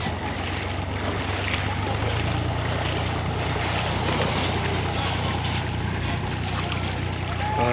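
A tractor drives through water in the Chenab river, a constant low engine drone under rushing and splashing water, close and steady throughout, with voices talking over it.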